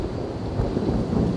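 A thunderstorm rumbles in Outlast 2 under steady rain noise, a dense low roar with no distinct crack, heard alone without talk.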